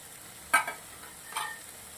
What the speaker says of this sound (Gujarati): હવે આપણે મિક્સ કરી દઈશું સબ્જી